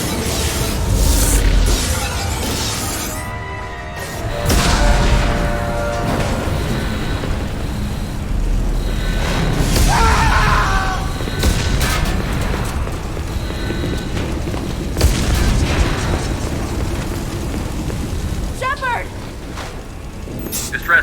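Heavy booms and rumbling blasts strike a spaceship hull in the sci-fi game Mass Effect, recurring amid a dense chaotic din while people shout over it.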